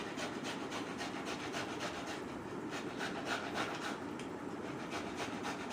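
Fresh coconut grated by hand, a steady rhythmic rasping scrape repeating quickly and evenly at close range, fairly quiet, with no talking.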